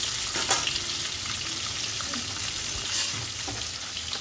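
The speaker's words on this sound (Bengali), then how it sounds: "দেখো মাছগুলো প্রায় ভাজা হয়ে গেছে" Katla fish pieces fry in hot salted oil in a wok, giving a steady, close crackling sizzle with a few sharper pops and spatters, no voices present.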